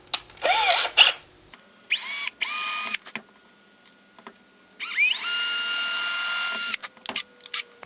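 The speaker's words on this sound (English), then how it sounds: "make sure when you're drilling this hole in the center that your drill bit's not going to go all the way through it" A power drill bores a hole into a wooden fishing lure in three separate bursts. Each whine spins up and holds steady, and the last run is the longest, with quiet gaps and faint handling noises between them.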